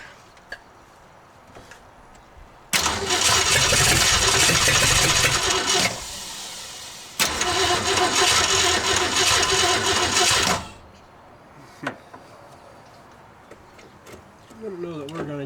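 A 1968 Ford LTD hardtop with no accelerator pump cranks loud and steady in two long bursts of several seconds each without catching, with brief quiet gaps and faint clicks before and after.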